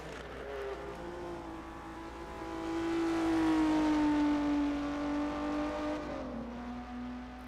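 A 1958 Formula One race car engine in a racing simulation, a sustained high whining drone that climbs and shifts pitch as it accelerates along the start-finish straight at the Moroccan Grand Prix, loud and continuous with no talking.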